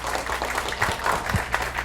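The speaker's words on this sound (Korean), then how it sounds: "맞으면 큰 박수로 마무리하도록 하겠습니다" A conference audience at a Korean medical tourism debate claps together to close a presentation, the brisk, dense applause filling the room at steady strength for a couple of seconds.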